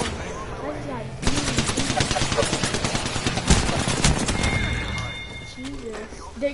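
Rapid video game gunfire bursts loudly from about one second in, continuous automatic fire with sharp shots, under a player's talk at the start and end.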